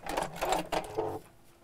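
A domestic sewing machine stitches in three or four quick close bursts during a sewing session, whirring loudly then stopping.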